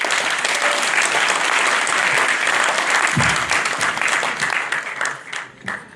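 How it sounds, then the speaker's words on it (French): A crowd at a municipal election campaign meeting applauds a candidate's running mate, broad continuous clapping that thins out and fades over the last couple of seconds. "je vous demande de l'applaudir"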